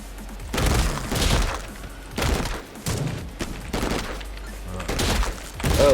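Submachine gun fire in the video game MADNESS: Project Nexus, with repeated bursts of rapid shots and impacts spread across the clip, fairly loud, and a voice briefly audible among them.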